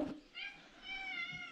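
A house cat gives two soft, drawn-out meows, close and quiet in an otherwise still room.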